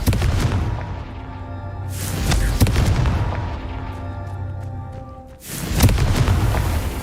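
In Hogwarts Legacy, the Confringo fire spell sets off heavy, booming explosions with sharp cracks, repeated several times over a dense low rumble and loud throughout.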